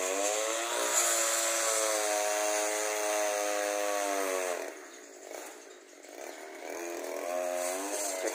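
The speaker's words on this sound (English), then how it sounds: "In case you wondered what the noise was, it's these lot. It's a tree felling." A chainsaw felling a eucalyptus tree revs steadily at high pitch, dips briefly as the engine bogs down in a cut, then roars back up, fairly close.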